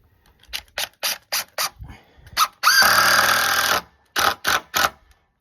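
Screw driven into a soaking wet wooden dock board during a dock repair, heard as a single loud sustained whine of a power driver of about a second, set between short rhythmic knocks and clicks.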